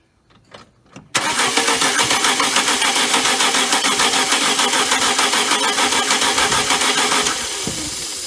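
A car engine cranked with starter fluid sprayed into the throttle body and held at about half throttle: a few short starter bursts, then a loud, steady, rhythmic churning that continues to the end.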